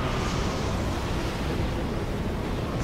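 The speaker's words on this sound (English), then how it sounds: "It's so windy here." Wind howls and roars steadily in a level of the Bayonetta video game, a dense, constant blowing noise with no breaks and no voices over it.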